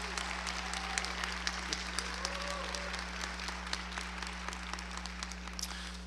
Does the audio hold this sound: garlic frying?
no